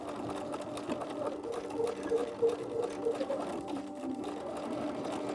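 A sewing machine stitches a bodice seam for a Simplicity S3228 dress, a steady continuous whir running throughout at moderate level with no talk over it.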